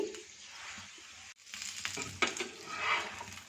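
A paratha fries in cooking oil on a pan, giving a soft, even sizzle with a brief pause and then light scraping and crackle as it is pressed, close but fairly quiet.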